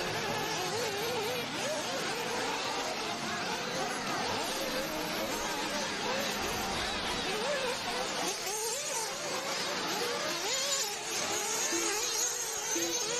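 Nitro RC buggies racing on a dirt track at a qualifying heat, several high-pitched buzzing engines whining and rising and falling continuously, overlapping near and far throughout.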